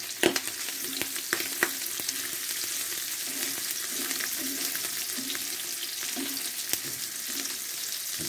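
Chopped onion frying in a pan for pork and beans, a constant close hiss of sizzling oil with scattered pops and occasional faint utensil taps throughout.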